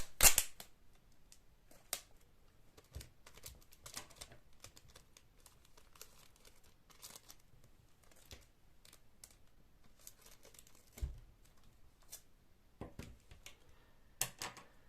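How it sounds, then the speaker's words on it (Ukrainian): Sharp crinkly rips and clicks of sticky tape being pulled and cut, scattered irregularly across a quiet background, close by. "відріжте шматочок скотчу"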